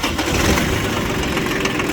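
A small three-cylinder Shibaura diesel tractor engine, a Shibaura SP1540, cranks and catches, settling into a rough, knocking idle up close.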